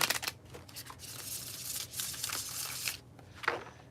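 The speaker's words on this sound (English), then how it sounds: "A quick bridge shuffle" Soft, close riffling of playing cards in quick fluttering bursts, a shuffle with papery crackles and a final snap as the deck settles.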